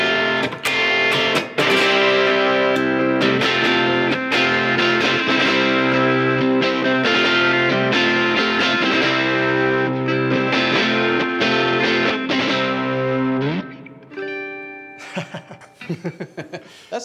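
A distorted electric guitar in open G tuning strums a ringing, chord-based riff for several bars, then trails off into a few scattered picked notes.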